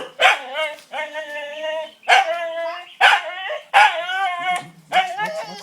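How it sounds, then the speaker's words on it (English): Guard dog barking loudly and close by in repeated bursts, about six evenly spaced barks with short gaps between them, no talk over it. "The guard dog."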